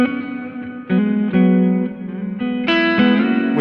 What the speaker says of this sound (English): this is for sure the biggest reverb that we use